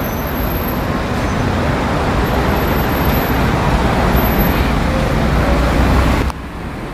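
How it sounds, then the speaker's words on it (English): Dense highway traffic in Qatar roars continuously, a loud broadband wash of passing cars, buses and trucks close by, with no talk. "Highway kasi yan dyan."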